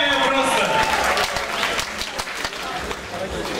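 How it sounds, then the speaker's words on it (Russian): Applause from a group at an event with children and their caregivers, a steady dense patter of clapping with some voices mixed in, fairly loud and close. "Давайте поаплодируем."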